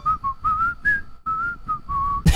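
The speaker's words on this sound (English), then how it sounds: "Sponge's whistle, something about it." The Sponge monster from the My Singing Monsters video game whistles a bright, clear melodic tune of several short notes with small gaps between them, standing alone at moderate loudness before a sharp burst at the end.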